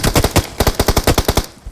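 Rapid automatic gunfire in the video game PUBG, a close, loud burst of about a dozen sharp shots in quick even rhythm, followed by one last lone shot after a brief pause.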